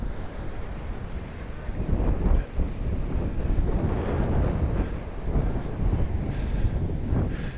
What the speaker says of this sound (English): You can see how windy it is with the waves.